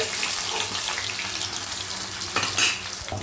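Boiled potato pieces fry in oil: a dense, close sizzle holds steady, with stirring clatter and a brief louder scrape near the end.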